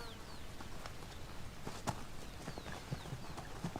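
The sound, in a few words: Konik ponies walking, hooves clip-clopping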